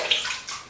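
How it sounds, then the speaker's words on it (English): Water splashed onto the face during a wet shave with a RazoRock Game Changer razor, a short wet splashing and trickling burst at moderate level, heard alone without talk. "Keep some water on my face."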